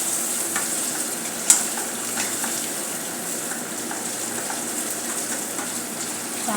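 A cup of green peas frying in a pan, a steady close sizzle with occasional stirring clicks and one sharp tap of a utensil, no voices.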